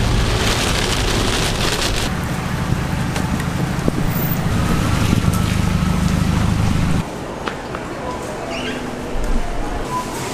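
Rain pours steadily outdoors as a dense, loud hiss that cuts to a quieter background about two thirds of the way through, with faint voices mixed in.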